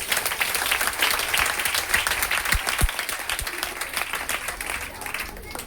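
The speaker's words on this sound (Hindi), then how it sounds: "चलिए जोरदार ताली बजाइए।" An audience at a DXN branch meeting in Patna breaks into a burst of clapping that rises, then thins out, with voices talking over it.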